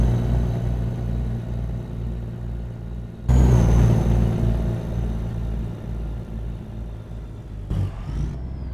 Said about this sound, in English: Use the engine brake down the hill.